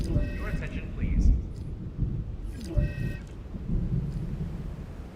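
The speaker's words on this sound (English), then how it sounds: "Uh-oh, got a storm." Thunderstorm in the video game Jurassic World Evolution 2: a steady rumbling roar with rolling thunder swells and rain, overlaid by brief tonal alert-like sounds and some voice.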